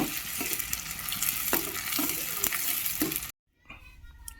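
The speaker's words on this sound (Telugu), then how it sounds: "టమాటాలు వేసిన తర్వాత బాగా కలపండి." Tomatoes and green chillies are stirred in a hot frying pan, with a dense continuous sizzle broken by scraping spoon strokes. The sound cuts out abruptly, then returns much quieter with faint clatter.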